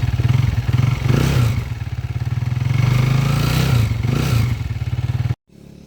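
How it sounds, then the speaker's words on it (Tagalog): A 200cc converted motorcycle engine in Tayug, Pangasinan runs close and loud with a rapid, even putter and brief swells of revving. It stops abruptly near the end. "iparinig ko muna sa inyo bago natin pandarin at marinig ninyo itong 200cc conversion natin"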